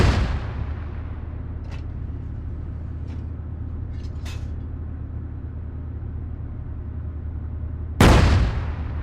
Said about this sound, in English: the other tanks are shooting at the enemies also